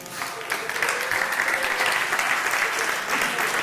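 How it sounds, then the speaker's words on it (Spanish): A church congregation applauds the children after an evening youth service, a continuous dense burst of clapping that stays loud and even throughout the short stretch. "Un aplauso a los niños."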